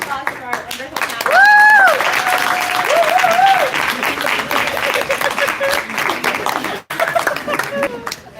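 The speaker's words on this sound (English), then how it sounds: "Let's give a round of applause for our wonderful panel." A conference audience applauds the panel at the 21st Columbia Africa Conference in Harlem, loud continuous clapping that fills the room, with people talking and calling out over it before it cuts off briefly near the end.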